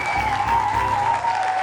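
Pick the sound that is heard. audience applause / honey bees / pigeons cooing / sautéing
audience applause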